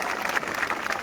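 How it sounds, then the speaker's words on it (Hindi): Crowd applause at a youth rally for education reform at Jantar Mantar, a brief, steady patter of many hands clapping at moderate volume with no clear voices on top. "इसका हम जश्न मनाएं तालियों के साथ।"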